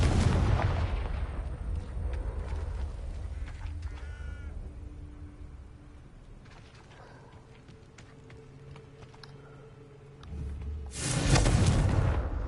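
Confringo spell explosions in Hogwarts Legacy on PS5, heavy booming blasts with rumbling tails that open the scene and return loudly near the end, with quieter game effects in between.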